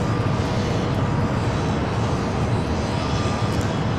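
Aircraft engines roar steadily at Los Angeles International Airport, a constant loud broadband rumble with no distinct breaks, as planes line up for takeoff on runway 6 right.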